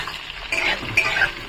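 Chopped onions, green chillies and cumin seeds frying in oil, a loud close sizzle with two sharp scraping stirs of a spoon against the pan over about a second and a half.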